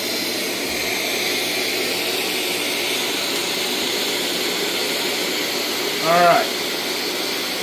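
An OPOWO dog grooming vacuum drones steadily as it sucks up a long-haired dog's fur, with a brief whining rise near the end and a short spoken word over the hum.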